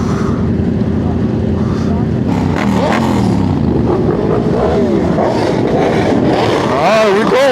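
An old Honda motorcycle engine runs steadily and loudly close by, with a rising rev near the end, while people talk over it outdoors.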